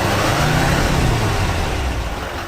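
The 6.6-liter engine of a 2020 GMC Sierra HD AT4 heavy-duty pickup truck runs with a loud, steady, even drone, heard up close and alone.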